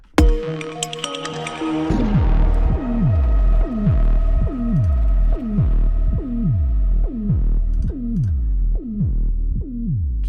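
An electronic track's ending with heavy repeating bass thumps in a steady pulse, each note sliding downward as the bass is filtered out, the low end sweeping away toward the close.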